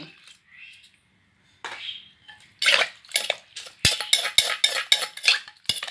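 Chili shrimp paste dip is stirred to combine it, with a utensil clinking and scraping rapidly against a bowl in close, quick strokes that become steady and dense in the second half after a few quieter moments at the start.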